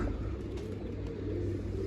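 Pigeons coo in a low, steady murmur, a close and continuous drone among birds being caught with a net, with no voices over it.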